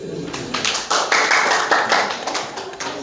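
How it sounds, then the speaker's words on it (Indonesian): Audience clapping at an Indonesian scout branch assembly, a dense, steady patter of many hands filling the room, rising and holding for a few seconds. "Tepuk tangan."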